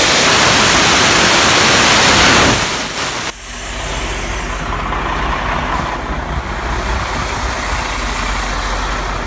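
Loud, steady broadband hiss of compressed air venting from open air brake valves on a 2019 Freightliner truck, strongest for the first few seconds, then dropping to a lower continuous rushing hiss that carries on to the end.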